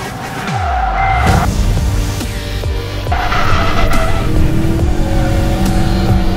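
A Ford Focus RS drifts on a racetrack, its engine roaring and revving loudly up close while the tires squeal and skid continuously through the slide.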